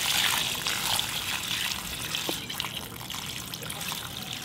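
Water trickling and splashing as it is poured off a settling bonsai soil mix, a soft continuous dribble with small splatters, fairly close and fading slightly over time.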